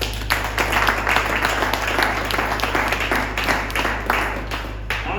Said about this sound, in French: Applaudissez-vous pour les anciens.